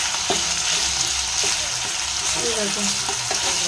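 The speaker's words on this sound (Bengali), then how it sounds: "আলুগুলো ভেজে নিই" Potatoes and onions fry in a pan with a loud, steady sizzle, broken by repeated scraping stirs of a utensil; a single short word is spoken over it.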